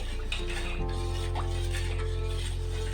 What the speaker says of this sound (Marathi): मस्त आता ते मिक्स करून घेते.